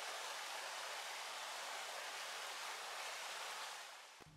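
Jackson Creek flows in a steady, even rush of broadband water noise, close and unbroken, fading slightly at the very end.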